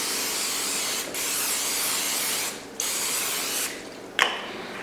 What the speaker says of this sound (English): Make sure to spray this down really well or it becomes the pan.